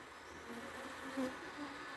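Honey bees buzzing around sunlit backyard hives, a faint, steady hum with a slightly louder bee passing close by midway.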